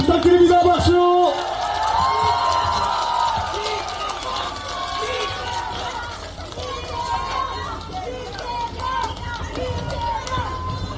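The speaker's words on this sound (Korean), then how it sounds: "뜨겁게 부탁드립니다. 박수." A large outdoor crowd at a Democratic Party campaign rally in Yeongdeungpo, Seoul, cheers and applauds as Lee Jae-myung is introduced. The broad, loud roar of many voices is strongest at the start, then holds steady throughout.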